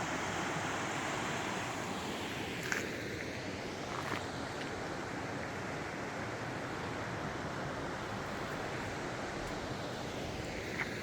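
Steady broadband rush of the Molalla River flowing through its forested corridor in Oregon, a constant moderately distant wash with faint wind and a couple of small knocks, no voices.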